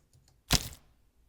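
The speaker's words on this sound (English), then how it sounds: "And the 3 together make up the impact sound." Layered arrow impact built from a stick whacking towel-wrapped lettuce, celery snapped in half and a squelch of juice: one loud, close crack-thud with a short, crunchy tail.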